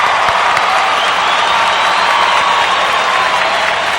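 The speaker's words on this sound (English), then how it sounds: "I need to do the old applause thing here." A canned applause sound effect plays loud and steady for four seconds, a thick wash of clapping and crowd cheering with no gaps.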